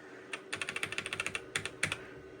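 Arrow keys on a Toshiba T3200SX laptop keyboard are tapped in a quick run of sharp plastic clicks, close and distinct, followed after a short pause by a few more separate presses, with no talking.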